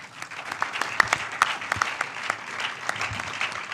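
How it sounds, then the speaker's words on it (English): A conference audience applauds after a paper presentation, producing a steady run of brisk, close individual claps that blend into warm, even applause for the whole stretch. "I would like to dedicate this applause to them"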